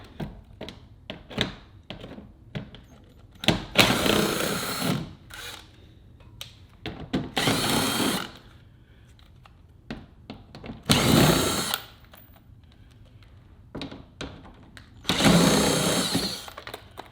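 A power drill backs out four 7mm screws on a 2019 Dodge Charger R/T, sounding as four loud whirring bursts of a second or so each, separated by quieter clicks and handling knocks.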